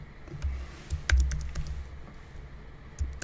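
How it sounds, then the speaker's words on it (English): Computer keyboard typing sounds close by, a scatter of light clicks in short irregular bursts with brief pauses between them. "I was typing."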